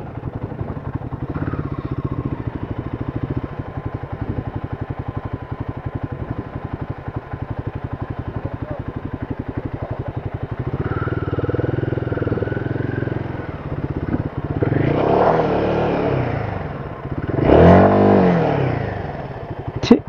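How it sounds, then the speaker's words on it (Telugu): A motorcycle stuck at a water crossing idles roughly and then revs hard in several loud, rising bursts toward the end, its engine close and dominant with clattering underneath. "ఇప్పుడు మన బండి స్టక్ అయిపోయింది ఇక్కడ వాటర్ క్రాసింగ్ చేస్తా అంటే."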